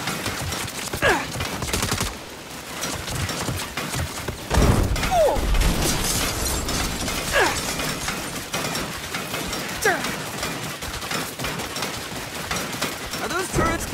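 Rapid turret gunfire from the Saints Row video game, dense bursts and crackling shots over a busy, loud mix with voices shouting at points.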